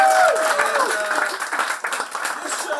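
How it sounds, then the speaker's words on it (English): An audience at a live show claps and cheers, a dense burst of applause up close with a few whoops, and a person speaks over it. "Round of applause for everybody."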